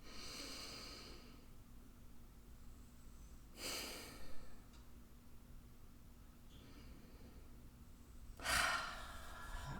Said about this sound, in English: Let's all take just a nice deep cleansing breath, bringing in air to your belly.